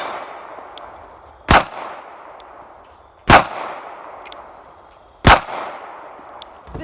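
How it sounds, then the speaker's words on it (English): Three sharp, loud pistol shots from a Tiffany blue Glock 43 at a shooting range, evenly spaced about two seconds apart, each a crisp crack with a ringing decay and fainter shots from other lanes in between. "So I'm gonna shoot my Tiffany blue Glock 43 for the first time."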